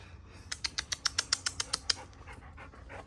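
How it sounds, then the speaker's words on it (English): A shop dog in a fabric and quilting store gives a quick series of about a dozen sharp, even yips or barks, then falls quiet, with no speech. "Okay, as we end this week, we're going to end it with the great shop dog, Ruby."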